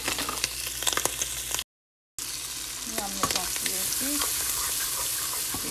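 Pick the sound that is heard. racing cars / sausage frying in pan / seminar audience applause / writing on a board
sausage frying in pan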